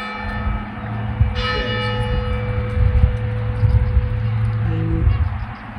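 Church bells ring out in Altea on the Spanish coast, several tolls with long ringing overtones carrying over steady outdoor background noise.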